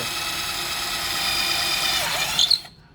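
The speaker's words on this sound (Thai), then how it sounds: "เราจะสาธิตการ เจาะไม้ด้วยอันนี้อันนี้ไม้ยางพี่ดู" A New Bolic 59 V cordless drill whirs steadily as it bores into rubberwood, pitch holding then rising briefly before the motor cuts off abruptly.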